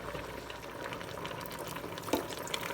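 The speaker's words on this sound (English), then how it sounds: "I may have to add some more water." Water is poured into a Ninja Foodi Deluxe pot while spaghetti cooks, a soft, steady trickle and splash with a brief clunk near the end, fairly quiet and with no talk.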